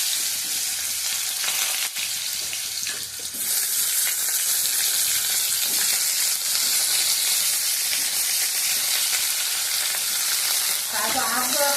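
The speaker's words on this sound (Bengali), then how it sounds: "এই আলুগুলো দিচ্ছি তেলে।" Potatoes frying in hot oil in a pan that already holds peanuts and dried red chillies, giving a loud, steady, continuous sizzle with no break.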